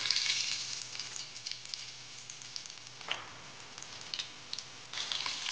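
Curry leaves and cumin crackle and sizzle in hot oil in a home kitchen pan, with bursts of sharp spitting pops that fade and flare again, close and moderately loud with no talking.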